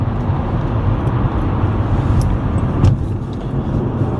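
A Mercedes-Benz car driving at night gives a steady, close low rumble of engine and road noise. It holds even throughout, with no voices.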